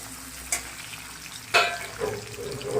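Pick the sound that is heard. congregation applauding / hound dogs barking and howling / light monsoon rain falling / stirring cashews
stirring cashews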